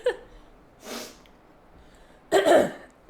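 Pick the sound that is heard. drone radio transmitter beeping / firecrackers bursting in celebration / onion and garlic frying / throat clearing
throat clearing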